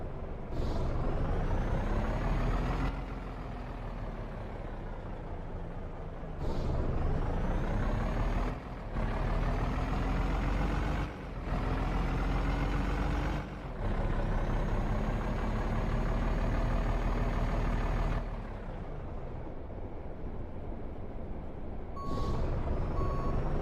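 A lorry hauling a timber load manoeuvres out of a tight spot, its reversing alarm beeping steadily over a loud idling diesel engine, with pauses between bursts and an air brake hiss near the end.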